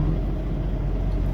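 Walmart reefer truck engine laboring while backing up, a steady low diesel rumble at moderate level that holds throughout, with a brief higher noise near the end and no speech.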